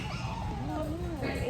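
A dog, likely a puppy, gives high whimpering yips and soft whines, close by, mixed in with people talking in a pet setting.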